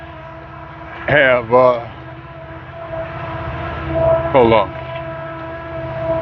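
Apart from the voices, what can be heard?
train engine passing with horn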